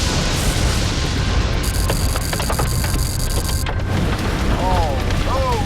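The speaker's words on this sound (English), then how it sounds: "That clanging is major hail right here." Major hail during a tornado storm clangs and rattles in a dense, loud, continuous clatter with sharper hits mixed in, and faint voices come through near the end.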